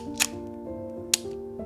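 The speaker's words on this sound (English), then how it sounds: "on the street, the shutter sound is so very light" The shutter of a Rollei 35S film camera clicks twice, close and crisp, each a short light snap about a second apart over a low steady background tone.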